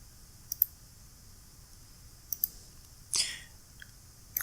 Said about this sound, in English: double click on this one